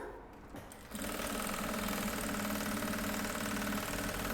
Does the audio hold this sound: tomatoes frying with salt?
no